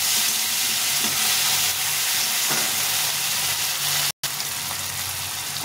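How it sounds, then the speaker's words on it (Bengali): Tomato pieces frying in a pan with browned onions for a tilapia fish curry, giving a steady close hiss and sizzle throughout with faint stirring scrapes and one brief dropout near the end. "টমেটোটা একটু ভেজে ভেজে নেব।"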